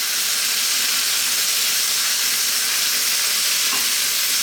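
Beef and onions stir-fry in a wok with sriracha and oyster sauce, making a loud, continuous sizzle and hiss with steady stirring and no talking.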